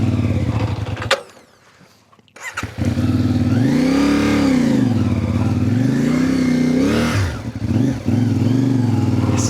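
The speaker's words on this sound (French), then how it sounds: "la moto elle a calé, frère" A motorcycle on a ride across Morocco stalls and goes briefly quiet, then restarts and revs in repeated rising and falling surges, loud and close.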